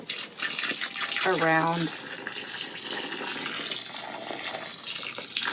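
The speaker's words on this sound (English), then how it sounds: "I made up a gallon jug, and I'm just going to pour it" Organic liquid fertilizer poured from a gallon jug onto the root zone of garden seedlings makes a steady, close gushing splash that runs through the clip, with a brief spoken word near the start.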